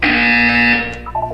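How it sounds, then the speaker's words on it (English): A buzzer from the video game Portal 2 gives a loud, steady harmonic electronic drone for about a second, then cuts off into fainter tones. "When you hear the buzzer, look down at the floor."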